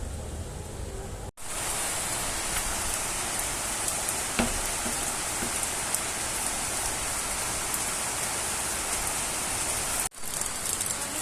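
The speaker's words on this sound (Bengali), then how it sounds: "আজকে সারাদিন বৃষ্টি, কাল রাত থেকে এখনো বৃষ্টি পড়ে যাচ্ছে কন্টিনিউয়াসলি।" Steady, continuous rain falls without pause, a dense even hiss that holds the same loudness throughout apart from two brief dropouts, with no voices.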